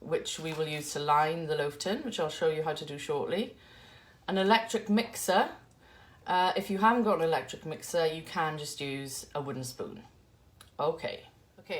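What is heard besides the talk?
None of the usual background noises is heard.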